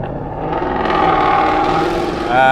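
A loud, close Ford Mustang GT engine with a 5-liter revs with a deep rumbling exhaust, the pitch climbing steadily before a sharper burst at the end.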